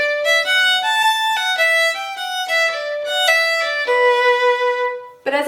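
A solo fiddle plays a flowing melodic phrase of a Celtic tune in connected notes, bright and close, ending with a brief lower note.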